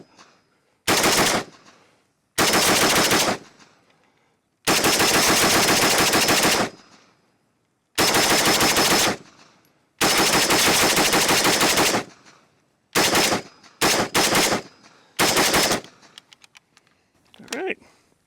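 Bursts of automatic fire from an RPK machine gun emptying a full magazine, using a Bulgarian RPK magazine: loud, close strings of rapid shots in several separate bursts with short pauses between, the last ones choppier.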